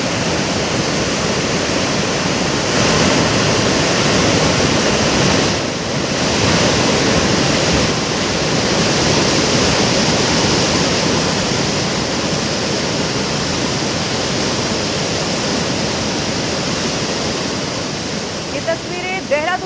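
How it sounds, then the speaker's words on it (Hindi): Rushing floodwater surging at great speed after a cloudburst in Sahastradhara, Dehradun, a loud continuous roar of churning water that holds steady throughout, close and dense with no voices rising above it. "प्रचंड वेग के साथ ये जो पानी आपको नजर आ रहा है"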